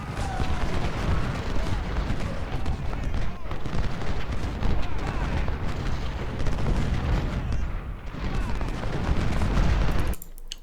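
Musket volleys roll across a Civil War battle at Laurel Hill in the video game Ultimate General: Civil War, loud overlapping cracks and booms forming a continuous barrage that cuts off abruptly near the end.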